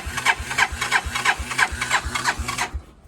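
A 1986 Honda TRX200SX ATV engine cranking over, a steady rhythmic chugging of repeated strokes at close range that cuts off abruptly near the end without catching.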